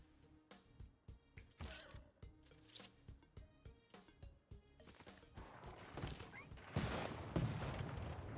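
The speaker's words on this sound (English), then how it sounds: "Field cannon does the damage." Field cannon firing in Civilization VI: a quick series of sharp, punchy game blasts in an uneven rhythm, building into a denser, louder burst of explosions near the end.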